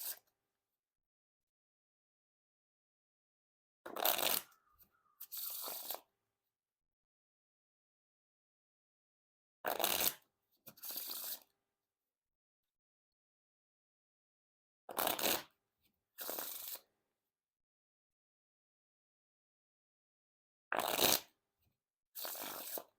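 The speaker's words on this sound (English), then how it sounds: "And now time for the riffle shuffle or bridge shuffle." Art of Play Red Camp playing cards being riffle shuffled and bridged, four separate rounds, each a quick crisp riffle followed by a short softer cascade, close and clear with silence between.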